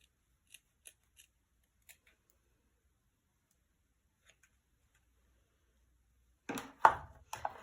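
Paper being cut with scissors to shape fur for a handmade Christmas branch card: a few sparse, quiet snips early on, then a louder burst of close cutting and crinkling near the end.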